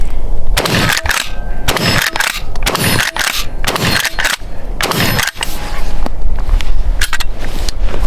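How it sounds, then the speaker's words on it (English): A Winchester Model 1887 12 gauge lever-action shotgun fires Federal shells in a string of loud, sharp blasts about a second apart, each followed by the clack of the lever cycling. "I'm just shooting Federal shells today, and we'll see how it functions"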